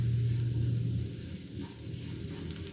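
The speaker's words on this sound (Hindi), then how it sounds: "अब इसके अंदर सारे मसाले ऐड करेंगे और इनको हल्का सा पकाएंगे मिक्स करके" Spices frying and being stirred in a pan for an aloo stuffed naan filling, a steady close sizzle with soft scraping stir sounds, a brief tone at the start, no talking.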